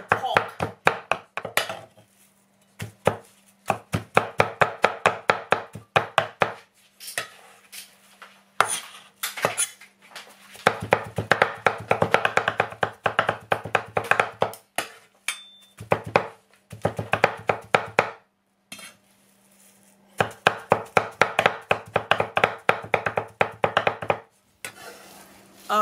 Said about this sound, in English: Then we're gonna mince the pork.